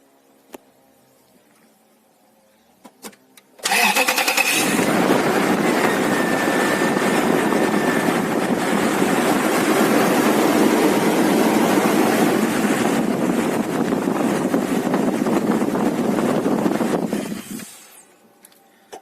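A loud, steady engine roar starts abruptly and runs continuously for about fourteen seconds before cutting off, with no voices over it.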